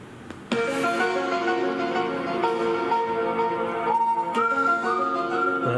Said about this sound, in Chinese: X 档案的声音